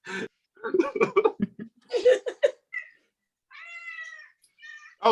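A cat meows in a couple of drawn-out harmonic cries near the end, following a stretch of close speech and laughter from a comedy stand-up crowd setting.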